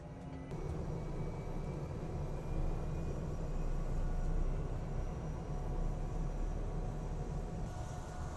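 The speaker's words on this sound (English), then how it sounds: "we are aboard our Cessna Grand Caravan 208 turboprop. They're starting up the engines." A Cessna Grand Caravan 208 turboprop starting its engine, heard from aboard the plane: a steady, fairly quiet droning hum with faint whining tones that holds throughout.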